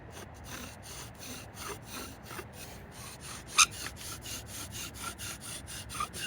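A bow drill spindle rubs against wood in a friction fire set, making a rhythmic back-and-forth rasping and squeaking close by with one sharp squeak midway.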